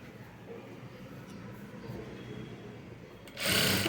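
A sewing machine runs steadily, stitching self piping onto a plain blouse, with a continuous close mechanical hum that grows louder and faster in a short burst near the end.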